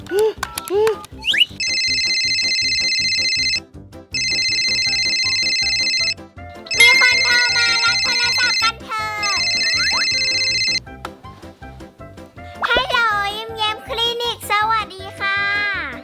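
A telephone ringtone trills in repeated bursts during a children's pretend veterinary clinic play. Loud and close, the rings alternate with short gaps while a voice speaks and sings between them.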